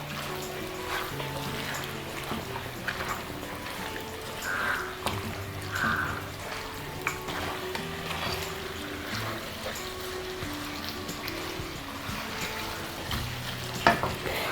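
Kerala-style beef pepper roast is stirred in a pan, a soft continuous frying hiss under irregular scrapes and knocks of the spoon against the metal, with no talking.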